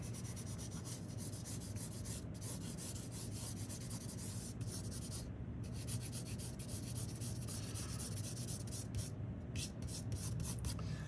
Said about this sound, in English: I'm gonna get back to the side of my pencil with 2B and build up that value